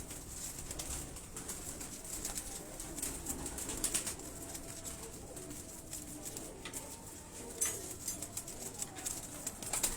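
Jura family pigeons coo softly on a Lahore rooftop, low murmuring calls under steady outdoor background noise, fairly faint and continuous throughout.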